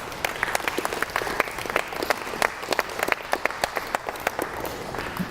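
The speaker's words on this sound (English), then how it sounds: "I think that's a round of applause" An indoor audience at a civic listening session claps steadily for several seconds, a dense patter of many hands at moderate distance with no talking over it.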